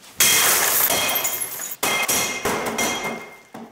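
Glass is smashed out of a demolition derby car in several loud, close blows, each followed by crunching and tinkling shards, with short gaps between strikes and no talk.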